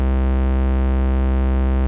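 A steady, buzzing synth tone from the P565 Siren runs through a distortion effect set fully wet, thick with harmonics and constant in loudness for about two seconds, with no voice over it.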